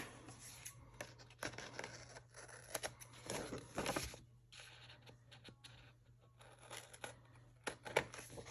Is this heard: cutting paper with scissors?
yes